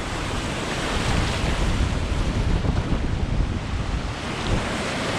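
Rough sea surf crashes continuously under high wind, a loud, dense roar of breaking waves and gusty wind buffeting the microphone at a shore where the tide is very high, with no pauses throughout.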